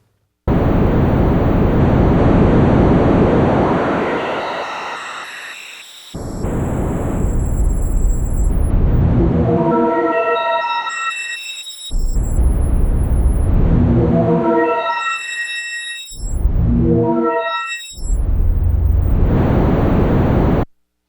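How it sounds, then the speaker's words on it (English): White noise runs through a 4ms Spectral Multiband Resonator, ringing in tuned keys as bright, loud resonant tones step through rising scale-like sweeps in several repeated passes, broken by short gaps. "you can hear, with that white noise output, how it resonates in keys"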